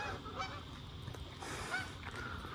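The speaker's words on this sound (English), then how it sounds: "Geese." A flock of geese honks continuously during a sunset walk, overlapping calls filling the air at moderate distance, with no talking.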